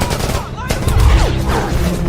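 Heavy machine gun fire in a movie action scene, dense overlapping bursts and booms layered with swelling score and shouted voices.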